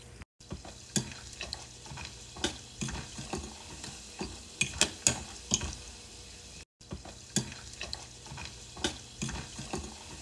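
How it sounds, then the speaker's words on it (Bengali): Peanuts, about a cupful, frying in a pan until browned, giving a steady sizzle broken by repeated stirring scrapes and clicks, close and moderately loud with no talking. "তো বাদামগুলো আমি ব্রাউন কালার করে ভেজে নেব।"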